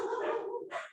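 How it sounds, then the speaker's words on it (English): A dog lets out a drawn-out bark followed by a shorter one, close and fairly loud, during an indoor talk. "sorry for the dog barking"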